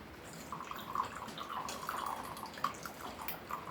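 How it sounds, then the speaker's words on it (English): Excess water drains off rehydrated freeze-dried chicken, trickling and dripping steadily in a light splashing pour into a container at close range, with no talking. "Drain that excess water off."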